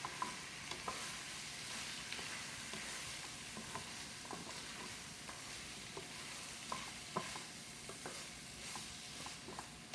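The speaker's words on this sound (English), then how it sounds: "We're going to stir that around just really quick." Spanish rice coated in tomato sauce is stirred in a pan, making a soft, even sizzle broken by scattered light scrapes and taps of the spoon, fairly quiet and without voices.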